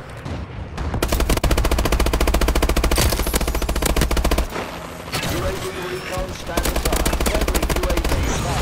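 Rapid automatic gunfire from a player's weapon in a first-person shooter video game, loud and nearly continuous machine-gun bursts with brief pauses, while a player talks over the shooting.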